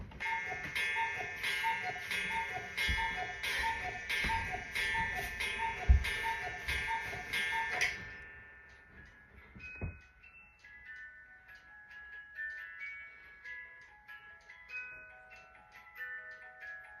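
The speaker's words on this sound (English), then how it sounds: "Hope you enjoyed the little cuckoo clock." A small cuckoo clock plays a bright chiming melody with repeated tones for about eight seconds, then gives way to quieter, sparse ticks and soft tonal notes until the end, with no talk.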